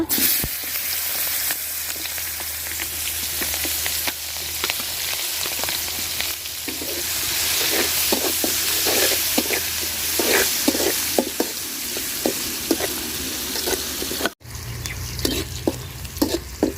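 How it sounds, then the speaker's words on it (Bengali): Steady sizzling of onion and chili frying in leftover fish-frying oil, with occasional stirring clatters, close and continuous, no voices. "মাছ ভাজার তেলে আমি পেঁয়াজ আর মরিচ দিয়ে দিব"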